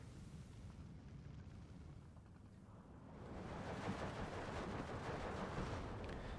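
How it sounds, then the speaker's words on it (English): Distant artillery and mortar fire in the WWII strategy game Steel Division 2, a continuous low rumble of blasts that swells louder midway and stays dense to the end, with no voices. "Jaapaasa being punished here for putting his artillery up so close"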